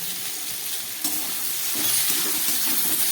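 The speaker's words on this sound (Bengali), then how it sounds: "খুব ভালো করে আমি এবার একটু কষিয়ে নেব" Ground coriander, cumin and chilli powder sizzle in hot oil as they are stirred in a pan for a vegetarian chorchori, a steady frying hiss with soft scraping stirs that grow louder midway.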